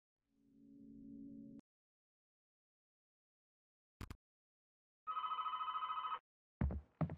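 Telephone ringing in the indie horror video game Ritual: a low droning tone, then silence, a brief click, and a rapid electronic ring burst followed by short thuds, all in near silence.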